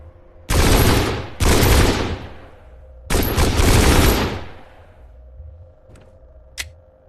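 Gunfire from weapons in the X8 VR shooter game: three loud bursts of rapid automatic fire, each about a second long and close, followed by a couple of faint single clicks or shots.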